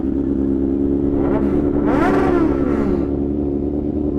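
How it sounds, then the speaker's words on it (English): Superbike engines rev at a street meet, a thick continuous engine roar with a rising and falling throttle sweep in the middle, loud and close, no talking over it. "The revs are echoing on your mic into my ears."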